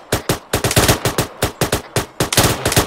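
.50 caliber machine gun firing in Arma 3, a steady run of loud, evenly spaced heavy shots in quick bursts that never stop, close and dominant.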